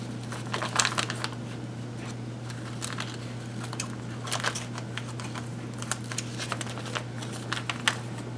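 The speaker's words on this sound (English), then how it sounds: "I am just cutting the top off of that Ziploc bag and can trim it down a little." Scissors snip through the thin plastic of a Ziploc bag, close up, with a steady run of small crisp cuts and crinkles over a low background hum, and no talking.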